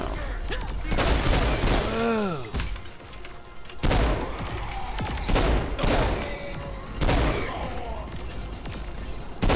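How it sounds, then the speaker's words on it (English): Gunfire in the video game Saints Row IV comes in several loud bursts of rapid shots and impacts, separated by short lulls and mixed with other warbling in-game effects. "Yes, I'm getting shot to ribbons"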